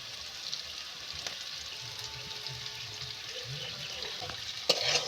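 A pan of chickpea and potato ghugni with turmeric and salt sizzles steadily while being stirred, a soft continuous hiss with faint scraping and a sharper clatter near the end.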